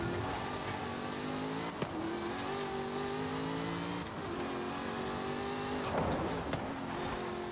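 A supercharged Koenigsegg in the Forza Horizon 5 racing game accelerates hard, its engine tone climbing through the gears with brief dips at each shift, loud and steady throughout.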